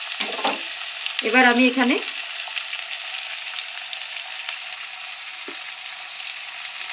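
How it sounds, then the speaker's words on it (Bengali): Onions frying in a pan, a close, constant hissing sizzle with a few stirring clinks, while a voice speaks briefly near the start. "পেঁয়াজটা ভাজতে দিয়েছি।"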